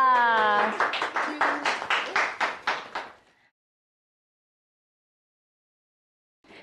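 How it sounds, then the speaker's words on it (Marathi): A studio audience at a Marathi TV family game show bursts into loud rhythmic applause for the winning mother, about a dozen sharp claps ringing out over a voice, then cutting off into silence. "जिंकली आहे आईसाठी जोरदार टाळ्या."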